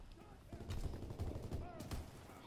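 Gunfire in a WW2 multiplayer shooter game pops in scattered sharp blasts across the clip, moderately loud amid busy battle noise, with spaced single shots rather than a steady stream.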